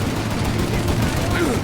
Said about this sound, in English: Shoot out their gun when there's a break in the fire!